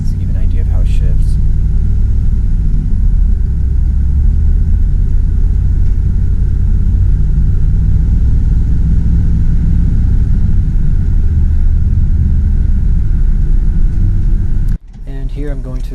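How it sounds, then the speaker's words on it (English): A 2004 Dodge Dakota LST Club Cab with about 117,000 miles accelerates gently through a park, giving a loud, steady low engine rumble that holds close and continuous before cutting off abruptly near the end; a voice may briefly overlap at the start. "Here I accelerate just a little bit."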